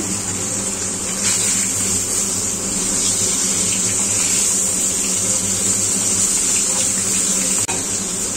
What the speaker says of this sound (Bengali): দেখো বন্ধুরা, মাছগুলি এখন আমি উল্টো পাল্টা করে ভেজে দিচ্ছি